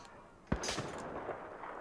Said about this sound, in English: Oh, I'm getting sniped.